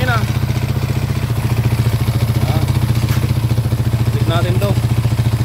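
A Honda TMX155 motorcycle engine without its mounting nut runs loud and close, with a rapid pulsing throb and loose vibrating clatter, as people talk over it.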